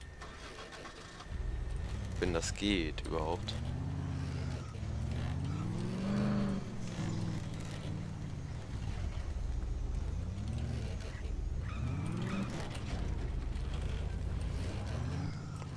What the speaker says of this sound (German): So, ich würde sagen, den Rest fahren wir mal mit dem Auto